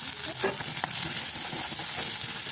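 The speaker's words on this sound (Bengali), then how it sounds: "এখন আদা রসুন কাঁচামরিচ বাটা আর পেঁয়াজ ভালো করে আবার অল্প সময় ভাজুম" Ginger, garlic, green chili paste and onions frying for a chicken curry, a loud, constant close-up sizzle with a few faint stirring scrapes beneath it.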